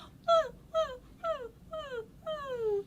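A human voice imitates a puppy's whimper with five or six high, falling whines in a short run.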